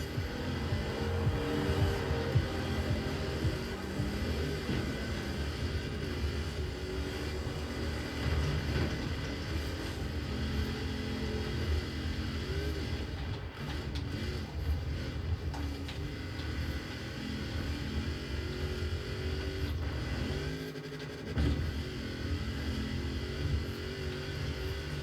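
Cars racing in the video game Forza Horizon 4 on a FIREBAT R7 7735HS mini PC, a continuous dense engine roar with shifting revs and tire noise throughout, steady and moderately loud without talk.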